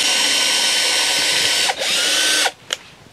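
A power screwdriver backs screws out of a central pillar of a polytunnel shelf, a steady close whirring run that dips briefly midway, then stops with a couple of short bursts at the end.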